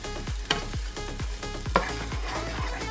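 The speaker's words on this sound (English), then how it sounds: "Just stir that around a little bit. Now, you want to make sure you don't burn your garlic" Garlic stirred around in a pot while cooking, a spoon scraping the bottom in a steady rhythm of about six strokes over a soft sizzle, close and moderately loud with no talking.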